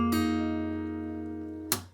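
A single guitar chord rings out and slowly decays, then a second bright strum lands near the end, close and fairly quiet with no voices.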